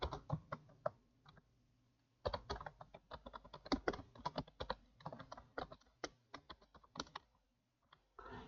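Quick, close keystrokes on a computer numeric keypad in uneven bursts, with sharper presses of the enter key between short pauses in a quiet room.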